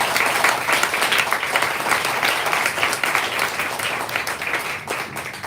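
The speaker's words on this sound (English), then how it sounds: "So one more hand of applause for all of the employees of the Booksmith." A crowd at a memorial for Victoria Amelina gives sustained, dense applause for the Booksmith bookstore employees, with steady clapping that fills the whole stretch and no talking over it.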